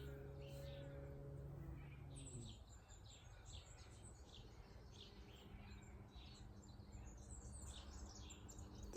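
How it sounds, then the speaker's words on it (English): Small birds chirping outdoors, faint scattered high tweets in the distance over a quiet background, following a low steady hum that cuts out early on. "Just little birds around today,"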